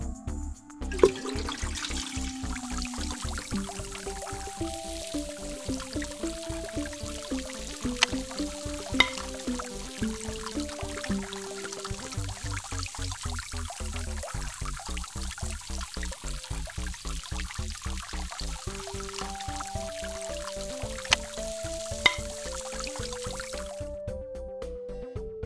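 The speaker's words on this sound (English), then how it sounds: "Thank you for giving the thirsty dog some water." Water pours steadily into a bowl for a thirsty dog in a children's science app game, a continuous splashy stream running under bright, bouncy electronic game music for most of the clip.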